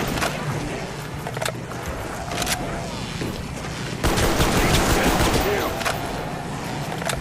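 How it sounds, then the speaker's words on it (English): M14 rifle fire in a moon-level zombies video game, rapid repeated gunshots in dense bursts over busy game noise, loud and close, with a voice talking over parts of it. "I'm going to empty all my ammo into them"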